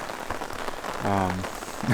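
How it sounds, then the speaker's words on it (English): Heavy rain drums on a pop-up canopy tent at an Oregon Coast campsite, a dense patter of drops throughout, with a brief voiced sound cutting in midway. "it started raining so heavily that I had to"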